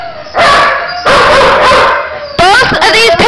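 Two female pit bull mix dogs at an animal shelter bark loudly and close in three harsh bursts, the last turning into yips and whines.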